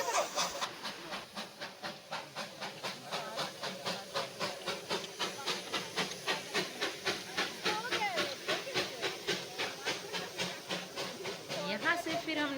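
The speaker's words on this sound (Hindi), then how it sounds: "वहाँ टॉय ट्रेन दिखी और टॉय ट्रेन भी बहुत अच्छी थी" Darjeeling toy train steam locomotive chuffing and hissing, a steady rhythmic puffing beat with a continuous steam hiss, fairly near and moderately loud, with faint voices in the background.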